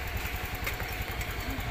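Honda Beat fi scooter engine idling after a no-start repair, a close, steady low putter with regular rapid pulses and light mechanical clatter, running alone without speech.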